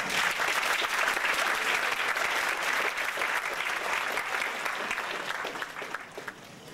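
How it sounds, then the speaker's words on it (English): A seated audience at a health-focused gathering breaks into a steady, dense round of applause that stays loud and even for several seconds before easing off slightly at the end, with no talking over it. "Let's give him a round of applause."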